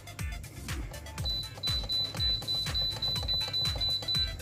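Repeated button presses on a Flavorwave turbo oven timer, each giving a short electronic beep in a fast regular series of about a dozen, close and clear with soft clicks between.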